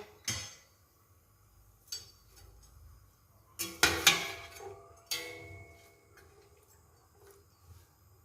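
Mutton chops being stirred in a pressure cooker pot, giving sparse metallic clinks and scrapes of a spoon against the pot, a few sharp knocks clustered mid-way over a quiet background.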